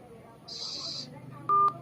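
One clear keypad beep sounds on a phone being dialed for a prank call. It comes after a brief hissing noise, and a voice talks nearby.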